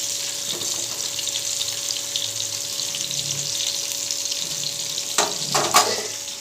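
Fish frying in a pan gives a soft, continuous sizzle with a faint steady hum behind it, then a few louder clatters near the end and no talk.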